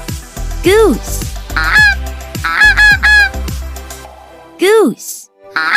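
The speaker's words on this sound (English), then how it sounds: "Goose." Goose honking from a farm-animal animation: a series of loud, nasal honks in quick clusters, then a pause before one more call.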